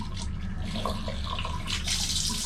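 Water runs steadily from a shower fed by an Electrolux 15-liter storage water heater, a continuous close hiss of spray and splashing with no voices.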